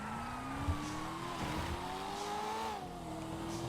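A car cruising in Grand Theft Auto V, its steady engine drone rising and falling slightly in pitch as it shifts and accelerates, moderately close and sustained without talk.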